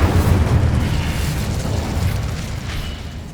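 Fiery Confringo and Incendio spell blasts in Hogwarts Legacy, a dense, loud rumbling burst of explosive magic that fills the whole stretch, gradually easing slightly toward the end, with no talk.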